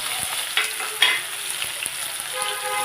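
Finely chopped onion, tomato and green chili sizzle and get stirred in hot oil, with a steady close frying hiss and a few sharper spatula scrapes and pops.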